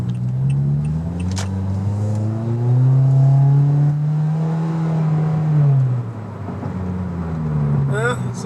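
A 2017 Toyota Corolla SE with an aftermarket exhaust revs up loud and close as the car accelerates, its engine note climbing and holding for several seconds, then easing off as the car settles back into a steady drone.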